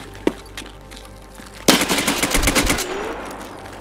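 Automatic gunfire in the Escape from Tarkov shooter game: a faint single shot early, then a loud sudden burst of rapid rounds with rattling echoes that trail off, no voices.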